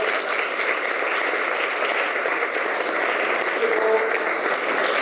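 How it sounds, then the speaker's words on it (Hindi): A church congregation applauds at a Sunday service to welcome a child, a steady, even burst of many hands clapping at moderate distance for the whole stretch. "आप तालियां बजाएं, इसको वेलकम करें।"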